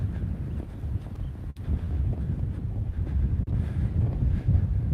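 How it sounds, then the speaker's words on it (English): Strong, gusty wind buffets an outdoor microphone with a continuous low roar that swells and eases, briefly cutting out twice, with no talk over it. "it's really windy over here"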